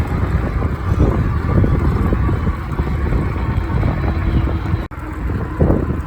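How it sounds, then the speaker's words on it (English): Strong, steady wind roaring across the microphone while riding a fat tire Ecotric e-bike outdoors in spring, a continuous loud buffeting rush with one brief dropout near the end. "That wind was pretty strong."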